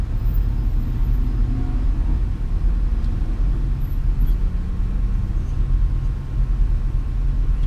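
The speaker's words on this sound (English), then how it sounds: "Idling very smoothly at about 800 RPMs." A big truck engine idles smoothly at about 800 RPM, a steady low rumble that carries on without a break and stays close and fairly loud throughout.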